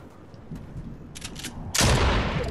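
A shotgun fires in a video game: faint scattered shots, then one loud, close blast that rings on and stays loud to the end.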